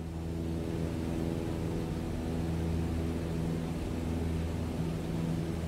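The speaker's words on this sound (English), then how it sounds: "Pull it out, you can hear the engine feeling better." Single piston aircraft engine in Microsoft Flight Simulator, running smoothly after the fuel mixture is adjusted, a steady smooth drone with a constant low hum and broad whooshing noise, unchanging throughout with no talk.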